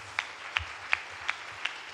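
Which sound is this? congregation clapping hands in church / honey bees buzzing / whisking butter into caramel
congregation clapping hands in church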